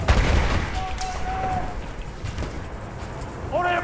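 Gunfire in the Battlefield 1 multiplayer video game, with a sharp shot at the start and scattered battle noise and distant shots after it, while a voice talks over the action.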